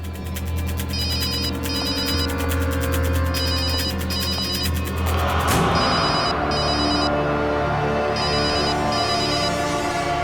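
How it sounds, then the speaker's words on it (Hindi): A telephone rings nearby in a repeating electronic pattern of short warbling bursts in pairs, with a sudden thud and shift in the background midway while the ringing carries on, no voices heard. "फोन की आवाज तो यहीं कहीं से आ रही।"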